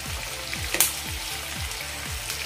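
Garlic, ginger and coriander sizzle and fry steadily in a hot pan while cooking a dhaba-style cashew masala with softened tomato, a constant close crackle with a brief sharp spatter burst near the middle and no talk.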